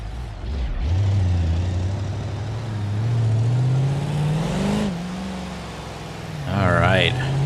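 A loud muscle car engine revs and rises in pitch over several seconds, its deep rumble steady and close, dipping briefly before a second surge near the end.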